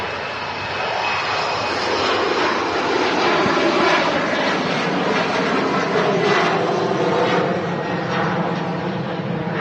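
An airliner takes off at Manchester Airport, a steady, loud jet engine roar with a broad rushing hiss that holds for the whole stretch, heard from outside with no talk over it.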